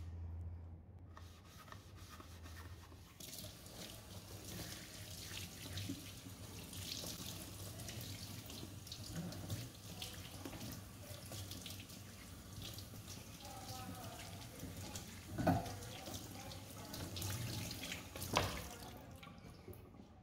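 A vinyl record, a Kiss Dynasty LP, being scrubbed along its grooves with a toothbrush under a running tap, giving a steady wash of water with soft bristle rubbing and a couple of brief louder knocks near the end.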